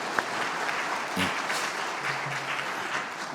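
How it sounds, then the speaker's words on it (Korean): Steady applause of welcome from a church congregation at a Sunday service, a dense even patter of many hands clapping throughout. "우리 환영의 박수 드리겠습니다"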